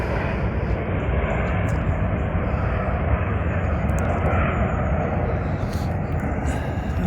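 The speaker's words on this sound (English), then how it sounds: "Planes are landing, so they shouldn't be too loud" Broadband roar of a large airplane coming in to land, passing overhead near a fishing lake, steady and loud throughout with no breaks.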